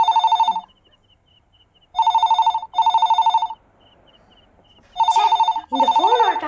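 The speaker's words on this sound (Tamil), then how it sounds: "ஃபோன் அடிக்குது" A telephone bell rings indoors in a home in loud, repeated double bursts separated by silent gaps. In the final ring, voices talk over it.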